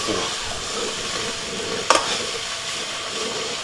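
Garlic chicken stir fry cooking in a high-walled stir fry pan on a Volcano grill, a steady close sizzle and hiss with one sharp clank partway through.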